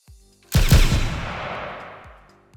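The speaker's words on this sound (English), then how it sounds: "Akimbo firing these things" Two 3D-built replica John Wick 4 dueling pistols chambered in .45 Long Colt fire together akimbo, producing one loud, sharp near report followed by a long decaying echo, with a faint click just before and after.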